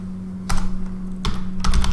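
Keys clatter on a computer keyboard in quick close bursts of typing, three short runs separated by brief pauses, with no talking.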